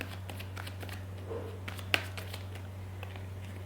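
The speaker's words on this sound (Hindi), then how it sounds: "तो let me shuffle these cards first" Tarot cards being shuffled by hand, soft riffling and sliding with a few sharp snaps, quiet and close over a steady low electrical hum, without talking.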